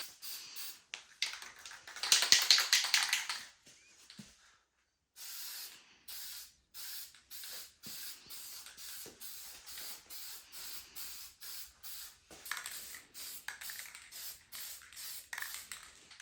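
An old, cold spray paint can hisses in a long burst, then in a run of short, even sprays separated by brief gaps, close and fairly soft.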